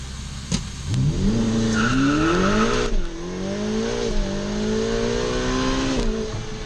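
A 2023 Ferrari F8 Spider launches hard with traction control off. The engine roars loud and close, its pitch climbing steadily over several seconds, with a brief dip at a gear change before it pulls on.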